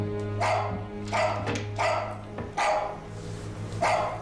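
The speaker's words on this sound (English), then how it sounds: "Don't kill the dog." A dog barks five times in an irregular sequence, each bark fairly loud and close, over a steady low hum.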